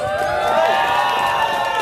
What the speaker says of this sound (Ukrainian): Хлопайте!